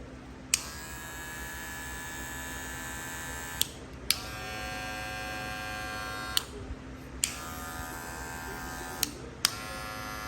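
A gold Wahl Magic Clip electric hair clipper buzzing steadily at close range, a strong motor hum with a few brief clicks and bumps as it is handled.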